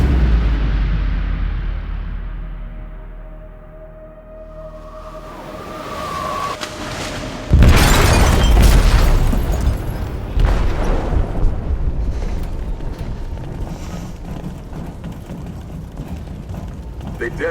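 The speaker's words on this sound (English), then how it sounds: "They detonated an explosive in the hold." An explosive detonates in a ship's hold in the video game Detroit Become Human: one loud, deep boom that follows a quieter rumbling lead-in and then fades into a lingering rumble, with voices speaking.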